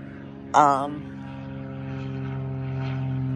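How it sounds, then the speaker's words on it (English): A steady low drone of an airplane passing overhead near an airport, rising gradually in loudness, with a brief voice-like burst near the start. "excuse the noise. We live next to an airport."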